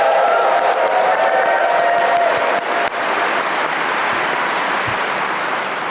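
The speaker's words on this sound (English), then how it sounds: "Give yourselves a round of applause, everybody." A live podcast audience at a Vancouver board game convention breaks into loud, sustained applause, dense crowd clapping filling the room for about six seconds.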